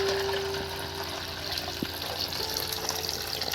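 Water is poured over chana dal to wash it, a steady close rushing splash that runs without a break, with faint clinks underneath.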